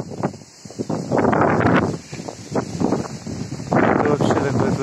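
Gusty, swirling wind during a storm in Crimea rushes and buffets the microphone in uneven surges, rising and falling over a few seconds, with a faint voice underneath.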